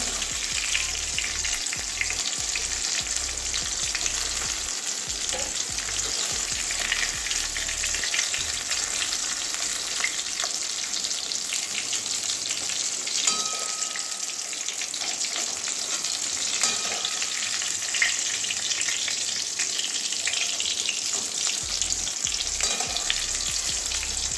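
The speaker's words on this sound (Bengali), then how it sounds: "এবারে পটলগুলো ভাজা হয়ে গেছে আমার এবারে তুলে নেবো" Pieces of pointed gourd frying in plenty of oil in a pan, a dense, steady sizzle heard close and alone, with occasional soft stirring scrapes.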